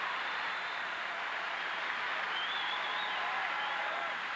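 Steady, dense applause from an arena crowd rewards a men's gymnastics routine at the 1990 US Olympic Festival, a continuous wash of clapping that holds at an even level throughout.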